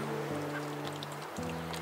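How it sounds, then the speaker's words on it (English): A small flock of four backyard ducks at an urban farm gives a few low, nasal quacks and honks nearby, short calls standing out over a steady background hum. "Here's our little ducks."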